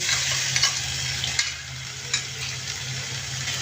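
Ginger and garlic paste sizzling as it is stirred into fried onions for a Bengali-style egg bhuna, with a steady close frying hiss and a few spoon scrapes against the pan.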